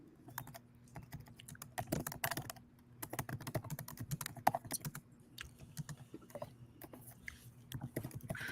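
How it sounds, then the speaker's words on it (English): Rapid, uneven clatter of keys being typed on a computer keyboard, close and fairly quiet, continuing steadily with brief pauses. "is that you typing?"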